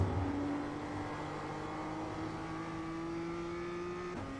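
A BMW M2 CS engine in iRacing accelerates steadily with a rising, sustained drone that climbs in pitch, loud and continuous, before a brief gear-change dip near the end.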